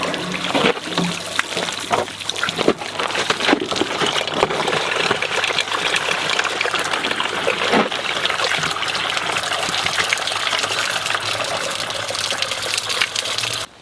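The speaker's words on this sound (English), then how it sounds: "I will use the hose and try to flush the radiator on both sides" Garden hose water flushing a clogged radiator on a Massey Ferguson FE35 tractor, a steady close gushing and splashing stream that runs continuously and loudly, then stops abruptly at the end.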